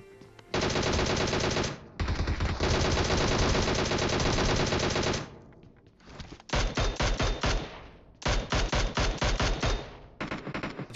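DP-28 light machine gun firing in PUBG Mobile, loud sustained bursts of rapid automatic fire broken by short pauses, the later bursts choppier and more clipped, with no talking.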